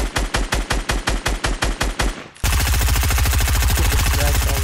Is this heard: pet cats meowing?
no